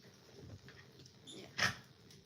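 A guard dog gives a single short bark or yelp, close and fairly loud, after a stretch of quiet indoor room sound with soft rustling.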